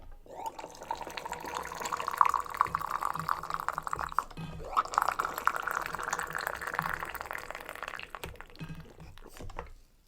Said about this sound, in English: you can just listen to the water pouring over the leaves